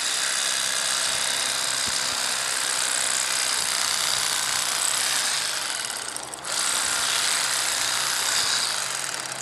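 A Bubba electric fillet knife cuts out the rib cage of a channel catfish, its motor buzzing steadily and close by, with a short dip partway through before it returns to a constant whir.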